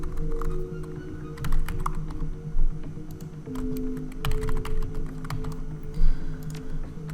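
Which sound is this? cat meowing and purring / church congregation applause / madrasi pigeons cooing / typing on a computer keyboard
typing on a computer keyboard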